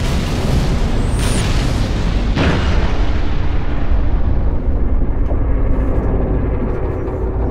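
A final protective fire artillery strike in Halo: Reach, a huge sustained rumbling boom with one sharp blast near the start, loud and continuous throughout with no talk.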